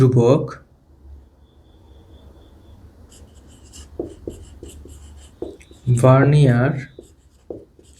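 Writing strokes scratch across a board during a physics lesson on slide calipers, short close scraping bursts between and under a teacher's speech.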